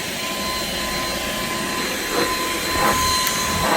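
An Ultenic U10 cordless stick vacuum runs over a very old carpet stuck with bits of tape, a constant high whine and airy roar that surges slightly as the head is pushed across the pile.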